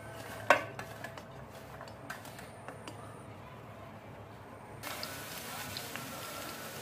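Garlic dropped into hot oil in a kadai for a tinda gravy, with a few sharp utensil clinks early on, then a sudden broad sizzle that starts partway through and keeps going steadily to the end.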